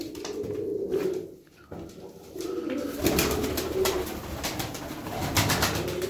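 Pigeons coo repeatedly in a loft, soft throaty calls close by over a background of wing flutters and shuffling, with no talk.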